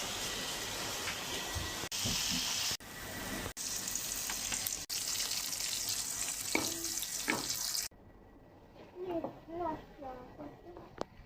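Boiled leafy greens sizzling and frying in a pan, a loud close crackle broken by brief stirring clatters, then cutting out as voices talk over quieter kitchen background.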